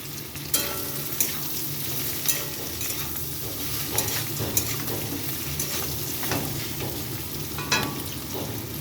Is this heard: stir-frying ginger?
yes